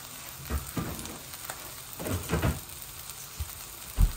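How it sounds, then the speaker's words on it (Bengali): A mash of beans and potatoes sizzles in a pan on a stove while being stirred, with soft scraping strokes and bursts of frying crackle at uneven intervals, close and fairly quiet. "এই দেখুন এগুলা নেড়ে নেড়ে একটু টানাই ফেলতেছি"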